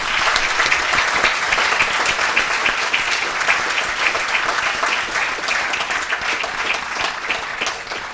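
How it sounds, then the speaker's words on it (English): Loud, dense audience applause for panelists after a media freedom discussion, a continuous roar of clapping held at even strength for about eight seconds. "So please give our panelists a round of applause for not only showing up but being brave."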